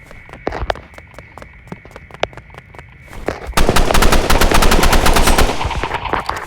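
Assault rifle gunfire in the Roblox game Rivals: a string of separate sharp shots, then a loud sustained automatic burst of rapid, evenly spaced rounds, close and dominant.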